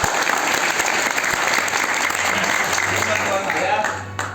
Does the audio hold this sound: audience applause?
yes